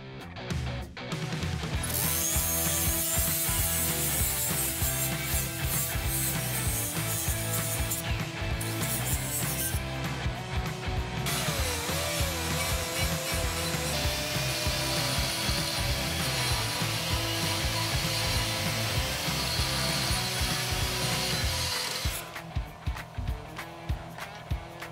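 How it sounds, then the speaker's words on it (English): A rotary tool with a carbide bit grinds down a TIG weld repair, making a steady, high-pitched whine with a few brief pauses. No one speaks. "So I'm just gonna use the carbide bit and then whatever else I can find to smooth it out and get this weld"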